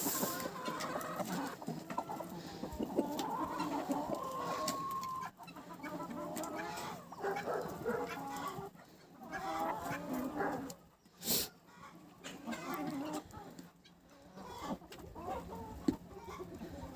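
Chickens and a rooster clucking in a Ukrainian village farmyard in winter, busy overlapping clucks and calls close by, with a dog barking among them.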